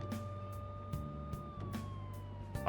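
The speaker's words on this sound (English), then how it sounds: "Sirens." A wailing police siren in the video game Persona 5 Royal holds steady then slides downward, with repeated short bursts of noise over a low rumbling engine-like drone.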